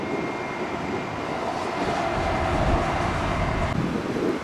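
A JetBlue airliner in special Brooklyn Nets livery taking off, a steady broad engine roar that holds without a break at moderate distance.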